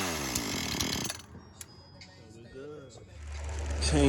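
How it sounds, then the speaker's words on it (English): A repaired chainsaw roars loudly up close at the start, drops to a rough idle, then revs back up to a heavy, steady drone. "Chainsaw number 3."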